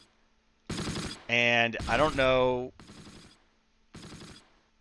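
Machine gun fire from the WWII strategy game Close Combat, set in Normandy, comes as four short, loud, crackling bursts spaced about a second apart, with someone talking over the middle of them.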